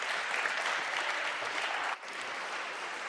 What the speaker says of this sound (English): warm round of applause for Kitso